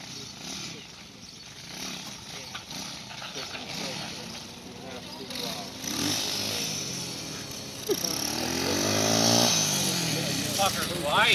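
A motorcycle engine with a rebuilt wiring harness, kill switch, ignition coil, CDI box and spark plug runs and revs up, growing louder and rougher toward the end, with people talking over it.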